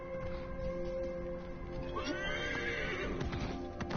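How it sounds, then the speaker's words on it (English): A summoned horse in a video game set in the deserts of Egypt whinnies loudly and clip-clops along, the neigh rising midway over steady hoofbeats and game ambience, with no talk. "Of course, we're going to call our horse"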